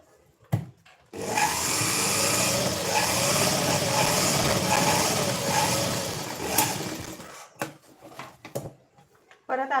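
A sewing machine runs steadily for about six seconds, stitching a folded strip of fabric for a size-34 prince-cut blouse. The motor hum is close and even, then it stops and a few clicks and handling taps follow.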